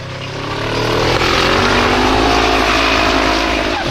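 A Formula Offroad turbo race car called the turbo troll climbs a very steep, low-grip final hill at Stapafell, Iceland, its engine roaring loud and close and rising in pitch as it strains upward.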